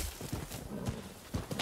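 Horse hooves clop in the video game Rise of the Ronin, a few quiet, uneven hoof falls on ground heard faintly and close, with no clear whinny.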